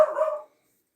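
One close, sharp bark from a little short-legged house dog at a front window, clipped and fading quickly into silence.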